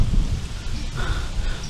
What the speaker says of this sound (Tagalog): Ngayon umuulan na dun.